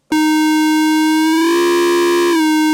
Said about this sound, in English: use the pitch here of oscillator number 2 to modulate the frequency of oscillator number 1